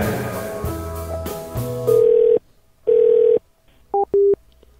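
Telephone call tones on a radio show line: a burst of mixed dial and line tones, then two long steady ringback tones with a pause between, followed by a short double-beep pattern, clear and loud with no talk.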